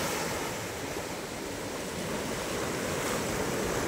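Sea waves at Henry Island beach roll and wash in a steady, broad surf roar with some wind noise, continuous and fairly loud with no voices.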